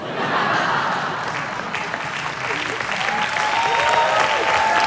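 Loud, sustained applause from a large audience fills the whole stretch, with scattered voices mixed into the clapping.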